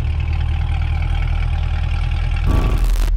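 A Corvette C8 with Kooks headers idles with a deep, steady rumble close by, then a brief louder burst of noise near the end.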